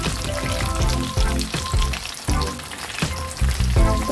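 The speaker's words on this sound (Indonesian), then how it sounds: "Kita goreng ya udangnya." Shrimp fries in hot oil for ebi furai, a loud, close, continuous crackling sizzle with bursts of popping and occasional stirring, with no talking.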